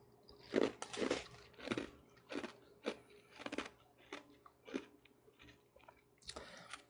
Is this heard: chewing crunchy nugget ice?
yes